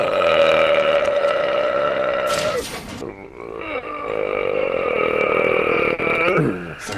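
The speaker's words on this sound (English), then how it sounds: "I just like to burp. I just burp." A long, loud, voiced burp with a harmonic, groaning tone fills most of the stretch, then a second drawn-out belch follows after a brief break, both close and sustained.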